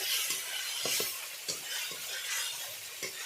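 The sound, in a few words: stirring and sautéing masala in a pan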